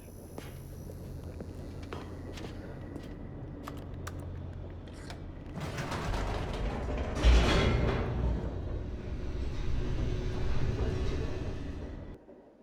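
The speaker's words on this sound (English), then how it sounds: "The elevator raced downward, plummeting towards an unknown fate." An elevator descends in the video game The Stanley Parable, a steady mechanical rumble with creaks that swells and grows louder midway before cutting off abruptly near the end.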